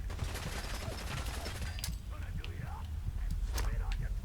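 Gunfire in the video game Fallout 4 comes as a rapid cluster of fairly faint shots early on, then sparser bangs, while someone talks quietly throughout.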